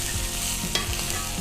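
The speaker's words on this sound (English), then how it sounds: "We're gonna add our pork loin to that." Pork loin hits a smoking-hot cast iron pan, producing a steady close sizzle with a brief sharper hiss and light scraping as it settles; no one speaks.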